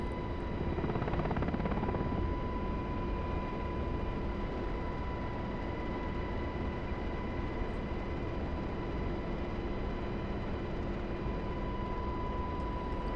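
UH-60L Black Hawk helicopter in DCS World flight simulation, a steady, loud rotor and turbine drone running continuously throughout, with no talk.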